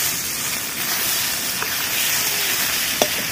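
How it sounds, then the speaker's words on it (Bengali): Ginger-garlic paste hits fried onions in a hot pan while an egg masala curry is cooked, setting off a loud, continuous hissing sizzle that holds steady close up, with a couple of faint utensil taps and no talk. "এবার আমি আদা রসুন বাটা দিয়ে দেবো।"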